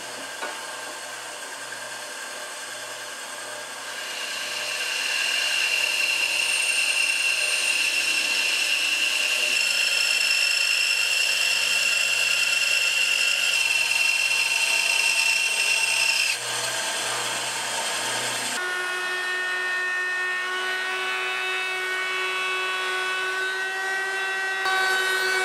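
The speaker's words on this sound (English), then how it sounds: "First, I need to cut it out at the bandsaw." A bandsaw cuts out a plywood shield in a workshop, a loud steady whine with shifting pitch as the blade works through the wood, running continuously and alone for the whole stretch.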